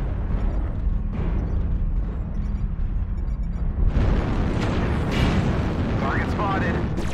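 A loud, rumbling missile explosion in a video game erupts partway through, following a steady low battle drone, with a voice speaking over the din.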